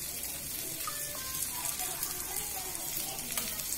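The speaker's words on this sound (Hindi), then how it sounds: "अब हम इसमें अपना पानी डालेंगे।" Water poured into a pot of rice for matar pulao, a steady running, splashing wash with sizzling texture throughout, close and continuous.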